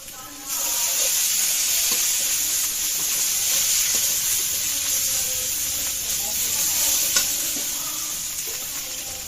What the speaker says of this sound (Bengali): মরিচের গুঁড়াটা একটু ভেজে নেব